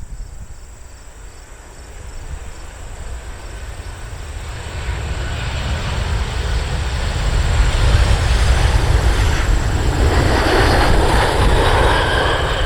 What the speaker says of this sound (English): This is a 737-800 BBJ.